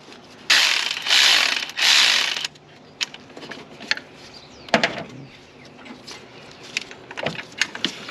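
A ratchet tightens bolts on a Jeep water pump in three quick loud bursts of rapid clicking, followed by scattered metallic taps and single clicks nearby in a quiet garage.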